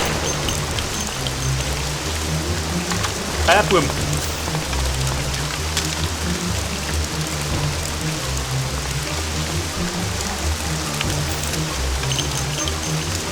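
Steady, dense rain pours down in the Mafia video game, an even hiss that runs the whole time with someone speaking over it now and then.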